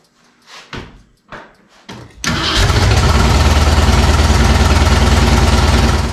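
A Ford 302 V8 in a 1967 Mustang cranks in a few short whirring bursts, then catches and runs loudly and roughly, a dense continuous roar close by that holds steady to the end.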